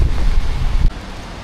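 Strong gusting wind buffets the microphone outdoors near a butcher shop in Paris on a rainy day, a loud low rumble that drops off abruptly partway through.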